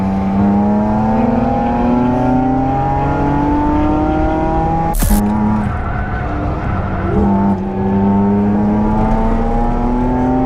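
A Renault RS car with stock brakes and full-HSD coilover chassis passes close by and accelerates hard, its loud engine note rising and falling steadily, with a brief sharp transient midway and no talking.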